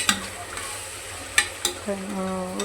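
Beans, potato and carrot for vegetable palav stir-fry in a pan with a low sizzle and three quick spatula scrapes, followed by a brief tonal ring near the end.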